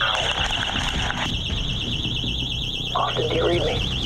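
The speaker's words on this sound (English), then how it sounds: "You tripped an alarm." A security alarm, tripped, wails in a steady warbling electronic tone throughout, loud and close, with voices and noisy activity underneath.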